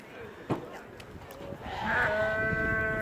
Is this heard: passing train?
no